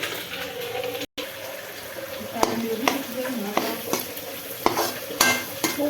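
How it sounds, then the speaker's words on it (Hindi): Masala spices roasting in a pan with green chilies, a low sizzle under repeated spatula knocks and scrapes against the pan at irregular intervals, close and moderately loud, with a brief dropout near the start. "थोड़ा सा मसाला ये इसके साथ भुन जाए"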